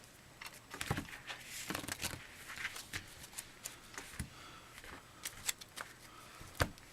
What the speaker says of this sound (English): now each player shuffles up their deck, of course, and then offers a cut.